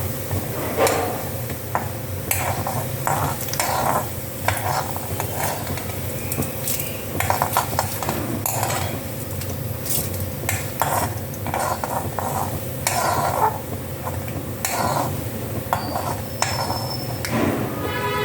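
Urad dal fries in a pan while being stirred, with frequent metallic scrapes and clinks of a spoon against the pan over a low steady sizzle, close and fairly loud, alone without talk.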